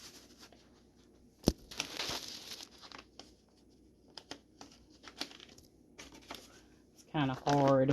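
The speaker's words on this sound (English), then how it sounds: "The butcher paper is acting up on me." Sheets of butcher paper are handled and crinkled while being lined up for a printed photo background. Scattered rustles and sharp crackles come up close in a quiet room, with a voice speaking briefly at the very end.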